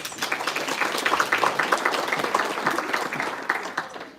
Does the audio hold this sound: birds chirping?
no